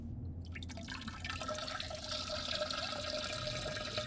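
A video game character urinating into a toilet in a horror game: a steady trickling, splashing stream of water that starts after a brief quiet moment and runs continuously, close and fairly quiet.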